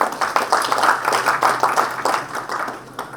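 Audience at a DevOps talk claps for a speaker being introduced, a lively round of many hands with uneven bursts that rise and fall, then tapers toward the end.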